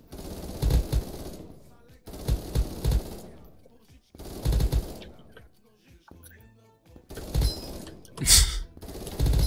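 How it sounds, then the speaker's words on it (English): Automatic gunfire in the video game Krunker comes in four sharp, loud bursts of about a second each, separated by short pauses, with one bright crackling burst near the end. "He walked right into my wall of bullets."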